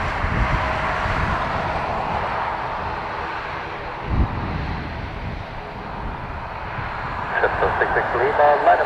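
A jet airliner rolls for takeoff at Dublin Airport, a broad steady engine roar held throughout with a brief thump near the middle and a louder swell toward the end, while radio-style chatter runs underneath.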